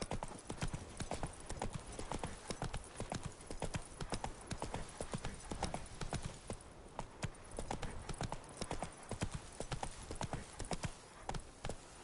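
Roach the horse gallops in the video game The Witcher 3: Wild Hunt, with rapid, continuous hoofbeats thudding close and loud in a steady driving rhythm from start to finish.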